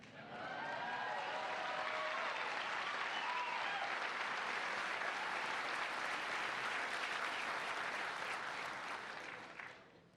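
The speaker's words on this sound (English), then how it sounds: "applause and expressions of excitement are absolutely welcome and desired" An audience at a NASA astronaut candidate class graduation ceremony breaks into long, loud, uniform applause that stays full and steady for about ten seconds before tapering off.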